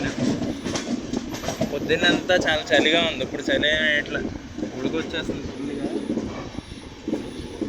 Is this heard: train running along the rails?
yes